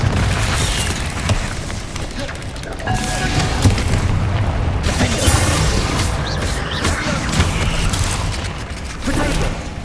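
Booming spell explosions from the Bombarda curse in Hogwarts Legacy, a dense run of heavy low blasts and crackling bursts layered over continuous combat noise and game sound, steady and loud throughout.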